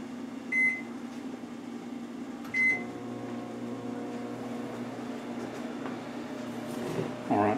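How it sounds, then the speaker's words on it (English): A household microwave oven starts with beeps, then runs with a steady low hum and fan whir, with more beeps near the end, in a home with a Wi-Fi modem nearby. "now I'm gonna turn on the microwave"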